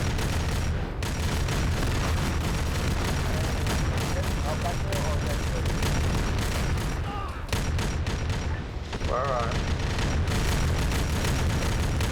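Grenades exploding in a video game, booming continuously beneath a dense, loud wash of gunfire and battle noise with no break for the whole stretch.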